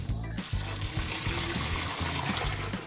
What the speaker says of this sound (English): now I'm going to take some of this hot water here that I got with some vinegar